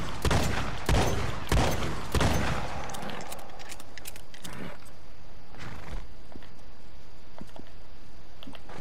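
A semi-automatic shotgun fires in the video game Red Dead Online, loaded with five shells: a quick series of loud, booming blasts in the first few seconds, then quieter ambient game sounds.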